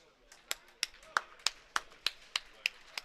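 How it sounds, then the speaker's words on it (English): Scattered claps ring out for a bowler at a bowling final: about ten distinct sharp claps spaced unevenly, moderately close, with faint background murmur. "Everybody's just giving a round of applause for Jonathan"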